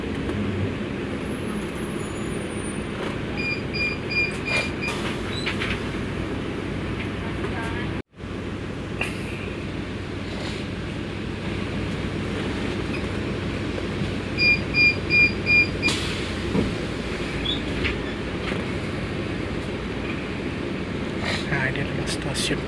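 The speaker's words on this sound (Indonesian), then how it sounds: "Nah, ini adalah stasiun kereta bandara ya." At an airport train station, a train rumbles continuously alongside road traffic, with occasional chimes and brief squeals, and a voice talks over it throughout.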